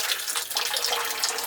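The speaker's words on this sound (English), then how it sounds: "100 amp hours of lithium powering a water pump." Tap water gushes steadily from a faucet fed by a pump running on a 100 amp-hour lithium battery, a loud, close, continuous splashing rush with no talking.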